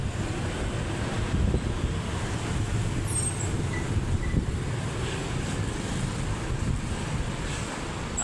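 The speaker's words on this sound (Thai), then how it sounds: "โอ้ลมแห้ง" Wind blowing in an open urban area of Vientiane, a steady broadband rush with low rumbling gusts and possible distant traffic, continuous for the whole stretch with no talk.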